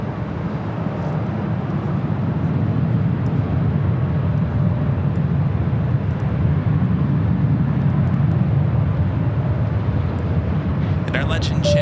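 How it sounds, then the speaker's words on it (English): Hawaiian Airlines Boeing 787 Dreamliner bound for Honolulu taking off from LAX, a sustained low engine rumble that stays level and continuous beneath a talking voice. "the Dreamliner, heading to Honolulu."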